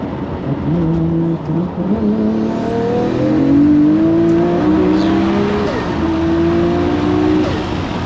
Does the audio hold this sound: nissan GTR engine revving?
yes